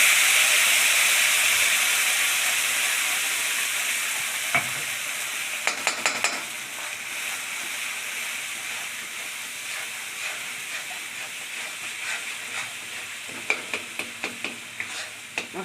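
Spice paste fries in a pan for a Bengali rohu fish and cauliflower curry, making a loud, continuous hissing sizzle that gradually eases, broken by bursts of quick spatula scrapes and clatters, with no talking.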